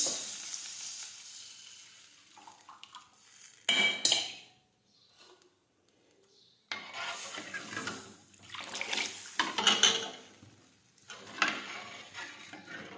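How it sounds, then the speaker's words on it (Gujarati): A ladle stirring a pot of kadhi, giving wet scraping and swishing sloshes in bursts separated by short pauses, close by and moderately loud, with no talk. "હવે આપણી કઢીમાં ડોયો છે તે ફેરવતા રહીશું આ રીતે"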